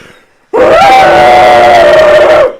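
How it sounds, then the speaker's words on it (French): Howler monkeys howling, a single loud, sustained, roaring howl that starts abruptly and holds for about two seconds before cutting off. "c'est normal, c'est les singes hurleurs"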